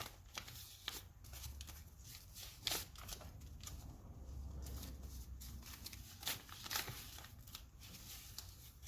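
Paper banknotes handled and straightened one by one, with crisp crinkling, rustling and brief slapping snaps close by in an irregular rhythm, some notes sticking together with tape.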